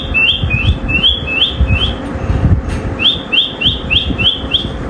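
A pet parrot called Mittu gives repeated short, bright whistles, first in a quick burst, then a brief pause, then another rapid run, close and loud over a low rumbling background.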